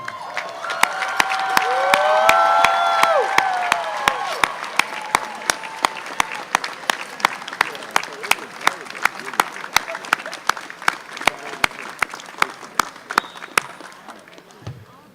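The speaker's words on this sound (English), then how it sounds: "we need to give you all a huge cheer" A commencement crowd of graduating students at Longwood University's 2019 undergraduate ceremony cheers loudly, then settles into long, rhythmic clapping with sharp regular beats under a broad crowd murmur.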